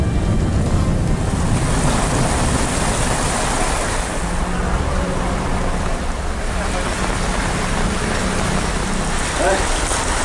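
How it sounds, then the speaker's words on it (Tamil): Heavy rain driven by strong wind in the Mangalam area of Tiruvannamalai district pours in a dense, steady roar with buffeting gusts on the microphone, continuous and fairly loud throughout. "திருவண்ணாமலை மாவட்டம் மங்களம் சுற்றுவட்டார பகுதியில் பலத்த காற்றுடன் பெய்த திடீர் மழை"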